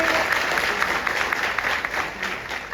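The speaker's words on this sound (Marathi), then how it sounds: "आणि ते त्यांच्यासाठी एकदा जोरदार टाळ्या होऊ देत." Audience applause at a Vestige event, a steady wash of clapping from a crowd that holds at an even level throughout without breaks, no talking heard above it.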